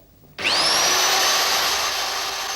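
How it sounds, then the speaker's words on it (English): A power drill bores a hole in the top of an oven, its motor whining up abruptly and holding a loud, steady, close grinding drone with no talking. "First thing you do is drill a hole in the top."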